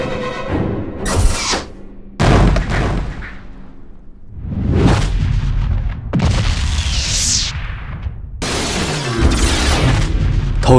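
Cannon blasts from an animated 3D cartoon, several loud booming bursts with whooshes and crackling debris, separated by short gaps.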